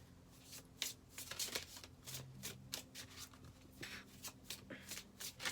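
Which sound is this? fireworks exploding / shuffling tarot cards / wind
shuffling tarot cards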